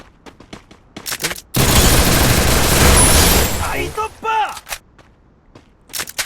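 Loud, dense burst of rapid automatic gunfire from a shooter video game rattles for about two seconds, then trails off into scattered clicks and shots, with faint voices nearby.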